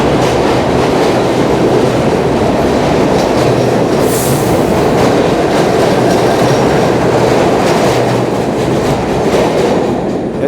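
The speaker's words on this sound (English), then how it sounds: "Train coming." A loud New York City subway train rumbles steadily into the station, wheels clattering over the rails with a brief high screech partway through, no voices heard.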